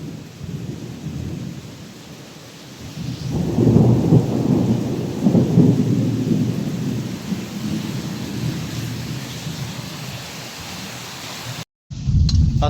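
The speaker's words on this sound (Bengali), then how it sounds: "এত জোরে বজ্রপাত হয়েছে আজকে" Heavy rain pours steadily while a deep roll of thunder swells and rumbles for several seconds before fading back into the dense downpour, with a brief cut near the end.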